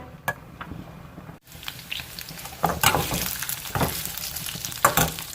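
Finely chopped garlic fries in hot oil for a restaurant-style chicken Manchurian, making a crackling sizzle broken by scraping stirs and bursts of spatter that swell toward the end.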